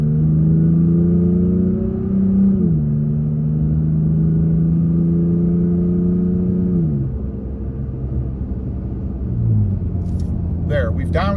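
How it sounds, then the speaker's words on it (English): A Toyota Tacoma with a new aftermarket exhaust accelerating to 55 mph, heard from inside the cab with the windows up, a steady low engine drone that rises in pitch through the gear shifts, with a voice speaking near the end. "We're going to do one more turn up to 55 here, and we'll let you guys hear right here with the window up"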